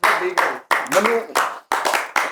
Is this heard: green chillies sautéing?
no